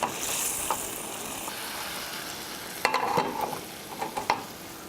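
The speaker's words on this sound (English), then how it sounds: "the key with risotto is you need to keep stirring it" Risotto is stirred in a pan over a steady, soft sizzle, with a few clear spoon scrapes and knocks against the pan coming in the later part, close and fairly quiet.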